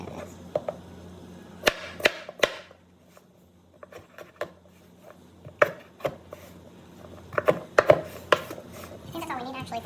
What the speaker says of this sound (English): Okay, chop these guys.